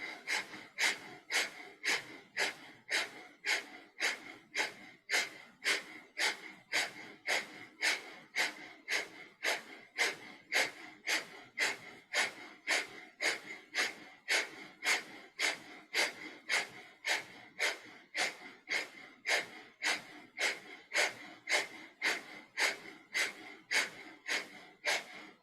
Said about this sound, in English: Inhaling, breath of fire.